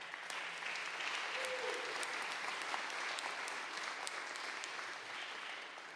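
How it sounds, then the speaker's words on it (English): An audience gives a sustained round of applause, a dense even wash of clapping that holds steady throughout at moderate volume, a little distant, with no voices on top. "And so I want you to give her a round of applause now"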